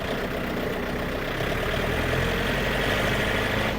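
A 2023 Yanmar YM351A 51 hp tractor with about 158 hours runs steadily in high gear, its engine a continuous, fairly loud low rumble and hum with no break.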